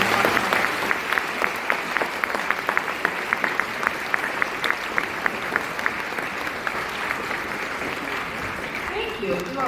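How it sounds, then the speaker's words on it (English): An audience at a school event honoring Holocaust survivors gives a round of applause, dense steady clapping that continues for most of the stretch before thinning out near the end. "can we please give him another round of applause?"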